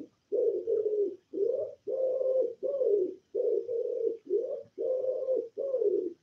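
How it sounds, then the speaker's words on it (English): A pigeon on a chimney coos close by, a steady run of soft, low hooting phrases repeated in regular bursts with brief pauses, alone against a quiet background. "I love that sound. Thank you, Pigeon."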